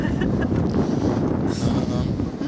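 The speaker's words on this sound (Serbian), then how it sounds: "jako duva vetar" Strong, cold wind buffets the microphone outdoors as someone moves along slowly, a steady roaring rush with gusty swells throughout.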